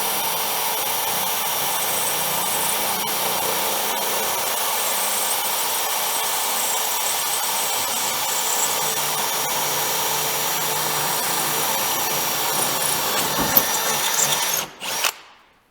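A power drill runs steadily for about fifteen seconds, a continuous loud whine boring all the way through a rear bumper, then spins down and stops.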